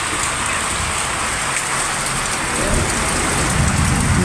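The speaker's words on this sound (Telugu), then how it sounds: "ఉరుములు మెరుపులు ఫుల్గా ఉంది వాన." Heavy rain pours down in a village in the Kadapa area, a dense, steady hiss that fills the whole stretch up close, with no voices and no distinct thunderclap standing out.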